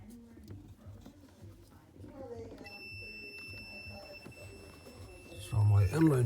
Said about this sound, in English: I'm gonna also check this inline fuse for continuity.